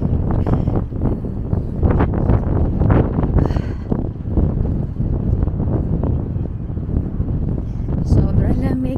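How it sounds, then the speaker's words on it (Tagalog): Strong, cold wind buffets the microphone outdoors in Tokoname, Japan, a constant loud rumbling roar with gusty bursts that persists through the whole stretch. "Sobrang lamig. Ang lakas kasi ng hangin eh."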